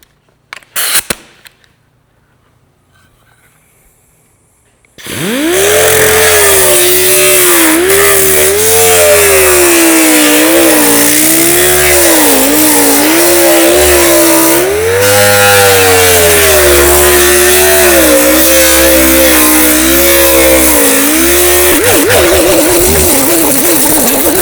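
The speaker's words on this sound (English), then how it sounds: "come in with a 5mm orbital sander, 40 on it, just to get the 40 scratches out" A 5mm orbital sander with 40-grit paper grinds over a welded metal patch panel on a Jaguar E-Type, starting abruptly and running loud and continuously, its motor pitch dipping and rising under load.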